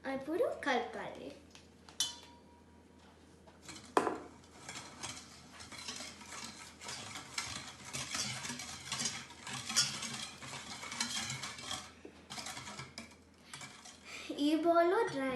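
Chocolate cake batter with beaten egg, vanilla extract and boiling water being stirred in a bowl, a spoon scraping and clinking repeatedly against the sides, with brief bursts of talk at the start and end.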